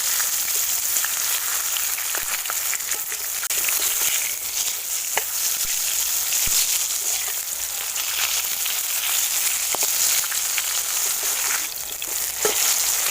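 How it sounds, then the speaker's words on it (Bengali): Long eggplant slices frying in hot oil in a pan, a steady, dense sizzle and crackle running evenly throughout with occasional louder pops, close and fairly loud, with no voices. "বেগুনগুলো সব লাল লাল করে ভেজে নিয়েছি"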